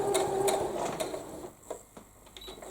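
Sewing machine running back and forth along a quilt seam, a rapid whirring burst of stitching that slows and fades into a few softer mechanical clicks.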